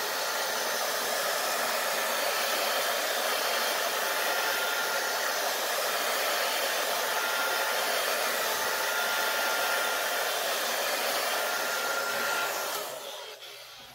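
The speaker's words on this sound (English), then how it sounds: "I'm going to dry this real quick, and I have my big blow dryer here." A big blow dryer drying an alcohol ink painting roars steadily and loudly for a long stretch, then cuts off near the end.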